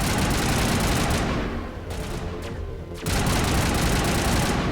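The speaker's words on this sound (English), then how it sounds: "this assault rifle kind of tears these dudes apart" Sustained assault rifle fire in Mass Effect 1 Legendary Edition, a dense continuous automatic rattle that drops briefly to a lighter burst midway before resuming at full, loud intensity.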